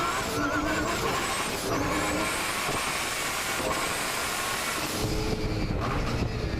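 A sports sedan race car launches at a race start at Winton Raceway with wheel spin, a loud sustained engine roar mixed with a dense pack of cars that shifts in tone near the end.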